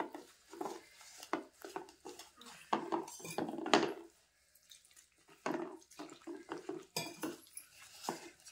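Clinking utensil and bowl sounds come in quick irregular bursts, with a short pause midway, as batter mixed with a little water is stirred and scraped close by.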